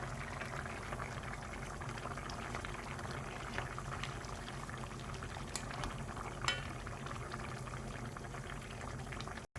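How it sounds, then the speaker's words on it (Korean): Tofu stew boils in a pot with quiet, continuous bubbling and small pops, a low, steady simmer that ends abruptly. "좀 더 끓여줄 거예요"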